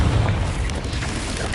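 A Confringo spell blast in the Hogwarts Legacy video game: a loud, dense explosive boom that rolls on with broadband rumble across the whole moment, heavy at the low end.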